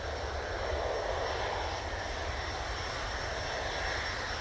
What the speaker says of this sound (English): Lofty in the Starlines livery, now on the roll.